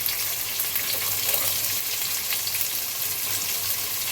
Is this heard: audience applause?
no